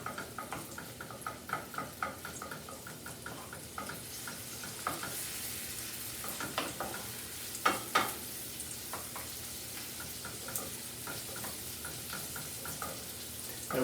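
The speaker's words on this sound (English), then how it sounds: "So I have our pan on the stove and I'm starting to render or saute the onions here" Onions sautéing in a pan on a home stove, a soft continuous sizzle punctuated by light rhythmic scraping and tapping as they are stirred, close and fairly quiet with no talking.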